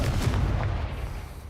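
Confringo fire spell blast in a Harry Potter video game, a single deep booming burst at the start that rumbles and fades over a second and a half.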